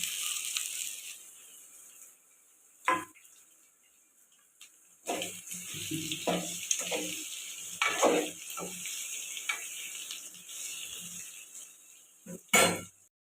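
Boiled potatoes are stirred into puri masala in a pan, giving soft intermittent scrapes, metallic clinks and a low sizzle at close range, mostly quiet between strokes.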